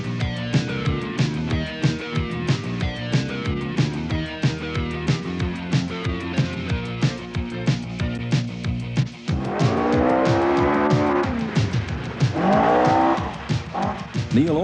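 A 2-litre Ford Escort rally car racing on a 1984 New Zealand rally stage, its engine revving hard through rapid gear changes, then tires squealing and skidding, loud and close.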